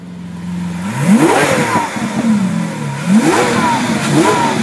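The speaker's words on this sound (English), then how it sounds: "There's nothing better than an Italian V12 engine singing its song." Lamborghini Aventador V12 engine revving in neutral, standing at a concours event: a steady idle broken by two sharp throttle blips that rise and fall, loud and close.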